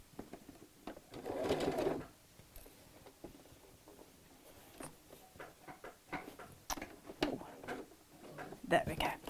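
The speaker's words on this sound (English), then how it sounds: "Just got a loose connection in my sewing machine foot. Right, now we're away." A sewing machine with a loose connection in its foot pedal whirs in short bursts with pauses between, under quiet background noise and occasional talk.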